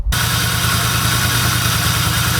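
A BMW 635csi engine with a newly installed ECUmaster Classic ECU idles roughly, misfiring on one coil: a steady, loud, close mechanical drone with an uneven low pulsing throb and no voices.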